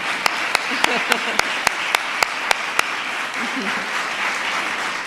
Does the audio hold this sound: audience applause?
yes